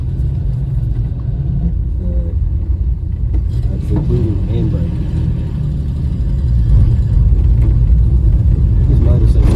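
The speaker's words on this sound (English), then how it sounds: "This motor seems to run okay." A VK Dodge ute fitted with a Valiant Pacer engine idles and runs in a steady, loud low rumble that swells slightly toward the end, with someone talking over it.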